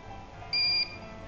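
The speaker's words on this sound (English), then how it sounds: "It's so handy that it beeps when it's done." A soldering iron beeps once it has heated up, a single clear electronic tone lasting about a third of a second over a faint room hum.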